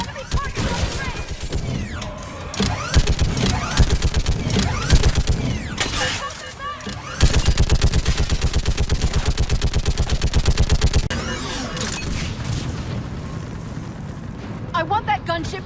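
Sustained gunfire from a mounted gun in a chaotic battle, a long dense stream of rapid shots with booming impacts and mechanical clatter, loud and close, with shouted voices over it.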